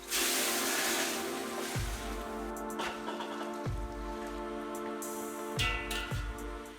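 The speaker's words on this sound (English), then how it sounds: "Boiling water is added." Boiling water poured into a cooking pot in a home kitchen, a steady splashing hiss that runs the whole time, with a few sharper knocks and bumps along the way.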